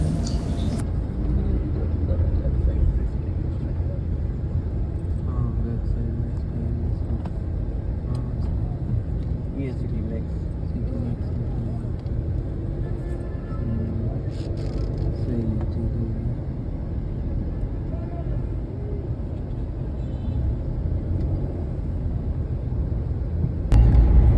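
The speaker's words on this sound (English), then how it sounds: "Islamabad's central bus station." Steady road traffic at Islamabad's central bus station, a dense, continuous rumble of engines and passing vehicles with little variation, no talk over it.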